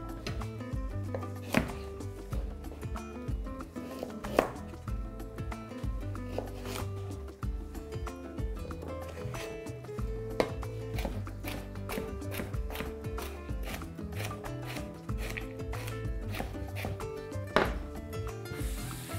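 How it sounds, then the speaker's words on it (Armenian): A knife chops carrots into small cubes on a board, a fast, steady run of close, sharp knocks that continues with only brief pauses. "գազարը կտրատում ենք մանր խորանարդիկների"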